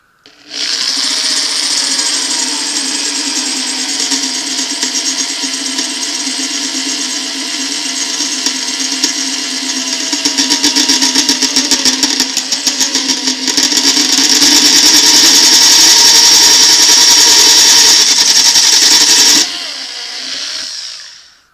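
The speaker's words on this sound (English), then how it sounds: "So then when we get the hole drilled in place" A drill bores a hole in a Morizumi spoke threader, a loud steady whining motor running continuously for about twenty seconds with the pitch rising under load before it stops.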